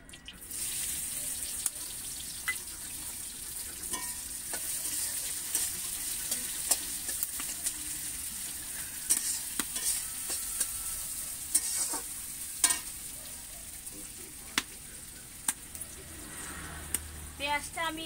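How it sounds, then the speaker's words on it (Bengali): Chopped onions frying in a pan for a duck curry, a continuous close sizzle with sharp clicks and scrapes of stirring throughout, some faint voice in the background. "পেঁয়াজটা আমি ভেজে নেব"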